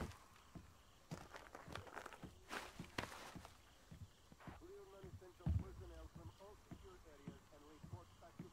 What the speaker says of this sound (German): Aber ich höre wieder Schritte.